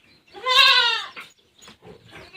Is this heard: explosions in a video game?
no